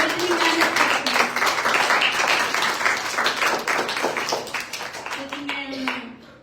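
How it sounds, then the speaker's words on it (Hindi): An audience at a Sunday praise and worship church service claps to welcome the worship team, dense sustained applause that slowly thins toward the end, with some voices mixed in. "अपनी टीम का स्वागत करें ताली बजा के।"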